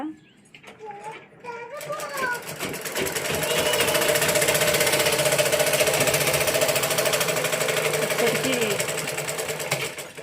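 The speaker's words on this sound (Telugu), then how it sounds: "ఇది ఇది కరెంటు మిషన్ కాదు కాళ్ళతో తొక్కే మిషనే" Foot-pedal treadle sewing machine stitching a blouse, starting with a few hesitant clicks and then settling into a rapid, loud, steady mechanical clatter, with a voice speaking faintly at the start.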